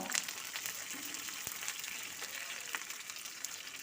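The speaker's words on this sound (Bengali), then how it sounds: "হাতার মধ্যে দিয়ে দিলাম এক চামচ সাদা তেল হাফ চামচ কালো সর্ষে আর কয়েকটা কারি পাতা" Black mustard seeds and curry leaves sizzle in a ladle of hot white oil, giving a quiet, continuous frying hiss with a few small pops.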